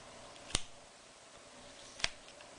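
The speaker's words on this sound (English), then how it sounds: "It's got rather a satisfying clunk as you slide the slide up and down." A Nokia E-series slider phone snaps open and then closed, two crisp, sharp clunks about a second and a half apart, close and isolated in a quiet room.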